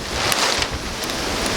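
Outdoor wind gusting steadily past the microphone while pitch pine glue of resin and charcoal is being mixed, a loud continuous rushing roar with brief puffs, no talking.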